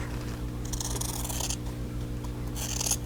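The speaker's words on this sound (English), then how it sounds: "I'm going to trim that off." Scissors trim off fabric while a quilter makes a Winged 4 Patch block, two short bursts of snipping over a steady low background hum.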